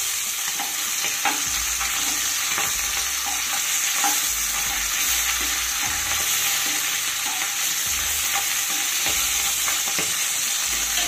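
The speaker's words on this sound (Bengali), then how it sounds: "এবার ট্যাংরা মাছগুলোকে একে একে দিয়ে ভেজে নেব।" Tengra fish sizzle in hot mustard oil in a wok, a steady bright frying hiss broken by soft scrapes and stirring clicks, close and continuous with no voices.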